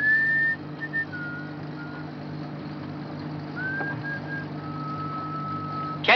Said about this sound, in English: A tune you're whistling.